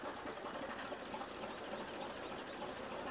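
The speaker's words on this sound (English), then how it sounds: "this engine has to be started" A tractor engine in Farming Simulator 2017 running steadily with a dense, buzzing mechanical drone and no clear start-up surge, loud and continuous throughout.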